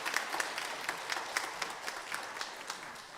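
A church congregation at an Easter union service applauds, fairly quiet and somewhat distant, with many hands clapping and a few sharper claps standing out.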